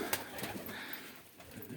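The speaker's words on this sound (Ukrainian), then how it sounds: "Ось такі голуби в нас." Breeding pigeons cooing softly nearby, a few low throaty calls with faint rustling in between.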